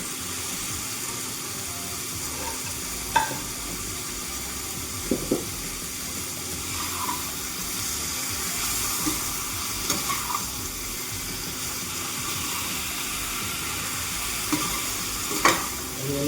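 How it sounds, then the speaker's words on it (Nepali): Fresh chicken pieces go into a hot pan for a Nepali chicken curry, giving a steady sizzling hiss throughout with a few sharp clinks and stirring scrapes near the start and end. "म चिकन एड गर्दैछु यसलाई"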